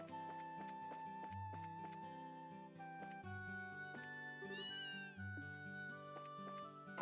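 Cats meow in the video game Trails in the Sky Second Chapter, short mewing calls heard quietly over the game's melodic background music.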